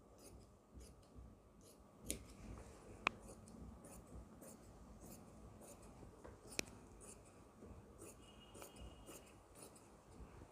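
Scissors snip through fabric while a palazzo skirt is being cut out, a faint, steady run of soft cuts and rubs with a couple of sharper clicks, close by and with no talking.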